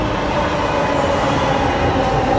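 Metro train rumbling loudly and steadily along the rails, a close continuous roar of wheels and carriage noise with no voices heard.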